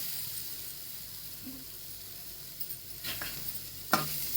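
Finely chopped onion drops into a spice mixture in a pan for peanut amti, with a low steady sizzle followed by a couple of clattering stirs and a sharp scrape near the end.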